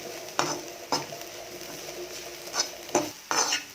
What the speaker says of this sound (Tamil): மிளகாத்தூள், கரம் மசாலா, மஞ்சள் தூள் எல்லாம் சேர்த்ததுக்கப்புறம் கொஞ்சம் நேரம் வதக்கிக்கலாம்.